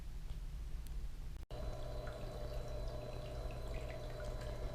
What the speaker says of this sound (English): I got the water running here